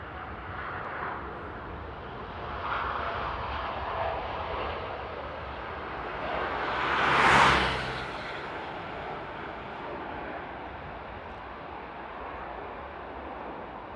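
Air France Boeing Dreamliner taking off from runway 08 left at Paris Charles de Gaulle, a broad distant engine roar that swells to a peak midway and then fades slowly.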